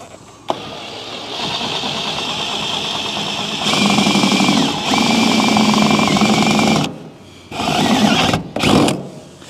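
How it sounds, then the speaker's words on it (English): A power drill, switched out of hammer mode, bores a hole through the bottom of a plastic container with a steady, loud motor whine that surges and dips in pitch, then halts briefly in short bursts near the end. "I'm just gonna drill into the bottom of this."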